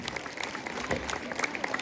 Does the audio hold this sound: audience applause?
yes